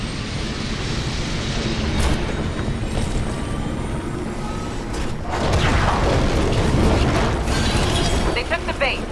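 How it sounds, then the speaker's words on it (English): A deep, rumbling mechanical hum of a video game cannon powering up builds steadily, swelling louder about halfway through, with voices talking over the drone. "The cannon's powering up."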